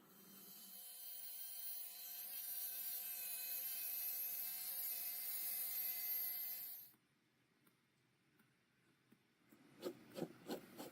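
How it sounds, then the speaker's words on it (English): A Dremel rotary tool grinds through an M.2 to SATA adapter, a loud steady high-pitched whine for about seven seconds that cuts off abruptly, followed by faint handling clicks and taps. "To the Dremel."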